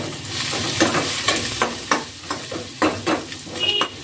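Onions, green chilies and turmeric sizzle in a pan while a spoon stirs and scrapes in repeated strokes, close and fairly loud, with no talking.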